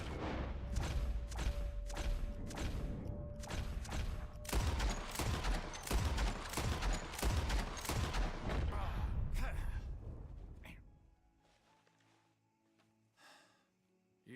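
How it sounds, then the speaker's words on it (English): Rapid volleys of gunshots from Red Dead Redemption 2 crack out in a dense, loud burst for about ten seconds, then stop, leaving a quiet tail of faint ambience and a soft voice. "As soon as you see them, start shooting."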